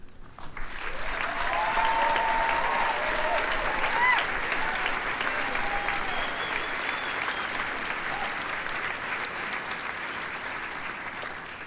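Sustained applause from students honoring faculty at a college commencement ceremony, a dense, steady crowd clapping that holds loud for over ten seconds with faint cheers mixed in.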